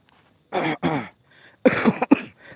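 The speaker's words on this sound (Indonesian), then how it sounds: "masih batuk guys, masih agak batuk" Someone coughs repeatedly in several harsh bursts with short pauses between them, close and fairly loud, while walking outdoors. The final coughs come quick and sharp, with some throat clearing mixed in.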